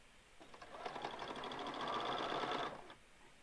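Sewing machine stitching quilt fabric units for Turkey Tracks blocks, a steady close mechanical whir that runs for about two seconds with a rapid needle rhythm, then stops, with no talking.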